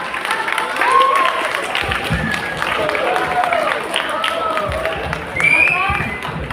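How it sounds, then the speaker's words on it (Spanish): An audience applauds a speaker introduced to give a lecture titled Del aula al cine, a steady wash of clapping with chatter and voices mixed throughout, swelling near the end. "Les pido que le demos un fuerte aplauso"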